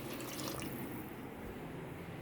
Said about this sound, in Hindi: टमाटर और प्याज पीसे थे, ये पानी भी इसमें डाल दूँगी